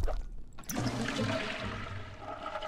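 A toilet flushes in The Sims 4, opening with a short clunk and then a steady rush of swirling water that slowly settles into a trickle.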